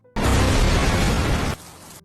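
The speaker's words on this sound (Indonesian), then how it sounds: "Tak lama kemudian, bom tersebut meledak." A bomb detonates in a dramatic TV detective series scene, a sudden loud boom that roars as a sustained blast for over a second before cutting to a fading rumble.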